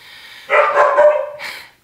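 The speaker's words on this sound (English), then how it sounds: "Or barky doggies." A dog barks close and loud indoors, one sustained bark followed by a shorter yip, sharp and alone with no talk.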